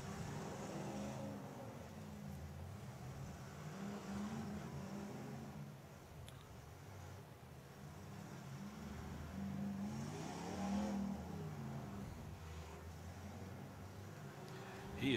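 A small derby car engine revs repeatedly at the Perryton, Texas derby, rising and falling whines heard from a distance, fairly faint against crowd ambience.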